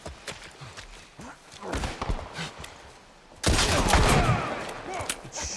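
Gunshots in The Last of Us: scattered sharp bangs early on, then a loud, sustained burst of rapid fire with clattering impacts, close and dominant throughout.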